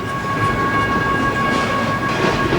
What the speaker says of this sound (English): As the trains pass, though, the talking stops and the tears start again.